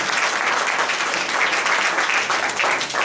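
Women in a church congregation clap together in sustained, dense applause that fills the room evenly from start to finish.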